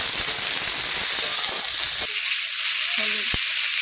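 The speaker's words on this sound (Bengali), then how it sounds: "উচ্ছে আলু ভাজাটা হলে হয়ে যাচ্ছে রান্না।" Bitter gourd and potato pieces with turmeric fry loudly in hot oil, a constant crackling sizzle with scraping stir strokes early on, then a few soft utensil knocks as the frying continues.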